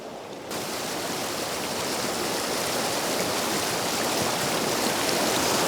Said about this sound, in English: The water is really ripping, flowing every which way.